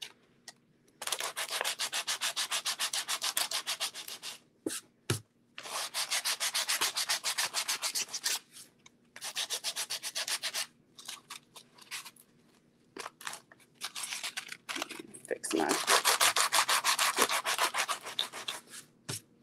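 Sandpaper rubbing along the edges of a painted wooden cow door hanger, close and loud rasping strokes in several sustained bursts separated by brief pauses and small taps, with no speech.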